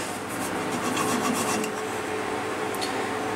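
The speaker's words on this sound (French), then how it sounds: "À la scie, c'est plus sûr." Steady rasping strokes of a hand saw cutting through yew wood, close and fairly quiet, continuing without pause.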